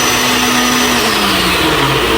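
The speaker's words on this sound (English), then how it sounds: "I'm going to be blending it all together there with some water so that it can blend this" A kitchen blender whirs steadily, blending spices with water, a loud continuous motor drone with a pitch that slowly sinks as the load thickens, with no voices.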